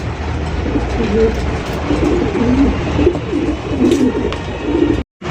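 Fancy and racer pigeons coo and burble softly at close range in a steady, overlapping chorus against a low background rumble, with a brief dropout near the end.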